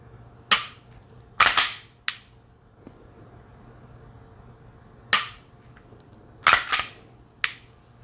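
Dry-fire clicks from a Glock 19 with a laser trainer, sharp isolated snaps, some in quick pairs, spaced irregularly across a quiet room with a faint steady hum.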